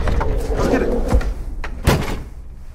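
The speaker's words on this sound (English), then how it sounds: "Yup, use the trap door. It's a trap door for a reason." In the video game The Quarry, a trapdoor opens with two heavy wooden thuds about a second apart, heard over a voice talking and some soft clatter.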